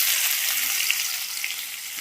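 Mustard seeds dropped into hot oil in a home kitchen, a bright, steady hiss and crackle with small pops, close and continuous for a couple of seconds.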